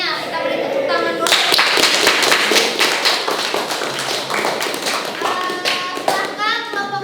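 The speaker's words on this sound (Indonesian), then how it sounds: "Kita beri tepuk tangan dulu." Students in an industrial electronics classroom clapping for a group after its presentation, loud close patter of many hands with thumps, children's voices chattering and calling over the applause throughout.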